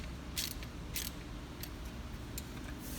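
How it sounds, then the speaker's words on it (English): A nut is worked off a bolt on a gasifier build, with a few faint metallic ticks and clicks spaced irregularly over a steady background hum, and no talking. "We're going to take the nut off one of the bolts here."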